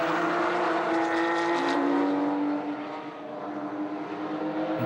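Race cars at the Zandvoort or Assen circuit roar past in a steady, loud engine drone with sustained pitch, a slight dip and shift midway as the pack moves away, no voices.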